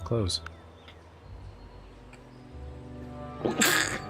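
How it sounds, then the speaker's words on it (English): A single sharp sneeze bursts out near the end, loud and close, after a stretch of quiet room noise. "Heard that sneeze there."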